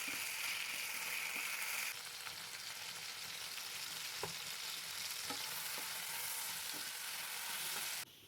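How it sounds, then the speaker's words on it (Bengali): A medium potato, cut into long slices, fries in a little oil with salt and turmeric, producing a continuous close sizzle with occasional soft taps from stirring; it stays fairly quiet and drops off at the very end, with nobody speaking. "পরিমাণ মতো নুন হলুদ দিয়ে ভালো করে ভেজে নেব।"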